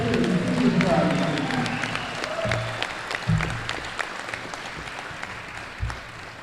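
An audience at a sports hall of fame induction ceremony applauds the Hammond Central Junior ROTC, with clapping that is strongest at first and then thins out, along with scattered low thumps and murmurs.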